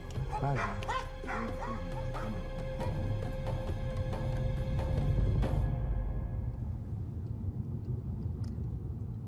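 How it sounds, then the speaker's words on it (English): Dogs bark and yip repeatedly at a roadside checkpoint during a car search on the road to Bethlehem, a busy mix of barks over a low traffic rumble that cuts off abruptly midway, leaving quieter ambience. "You can see they're searching a car with dogs over there."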